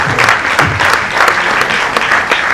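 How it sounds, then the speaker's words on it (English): An audience at a Sierra Leone government event applauds a minister, brisk continuous clapping from a sizable crowd, close and loud, with individual claps standing out in an even rhythm. "Let's give the minister another round of applause."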